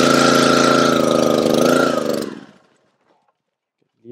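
A chainsaw on a cold homestead morning runs loud and close with a rough, buzzing engine note, then cuts out abruptly and leaves near silence.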